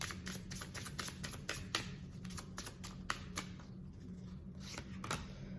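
Oracle cards being shuffled by hand, a quiet, close series of quick riffling flicks and soft taps in an irregular rhythm, with no voices.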